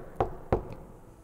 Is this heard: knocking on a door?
yes